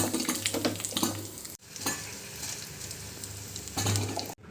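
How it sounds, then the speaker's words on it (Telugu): Cumin, mustard seeds, chana dal and dried chilies fry in hot oil for a tempering, a steady close sizzle with stirring and light pan clatter, briefly cut off twice. "అందులో జీలకర్ర, ఆవాలు, పచ్చెనగపప్పు, ఎండుమిర్చి వేసి ఫ్రై చేసుకుందాం."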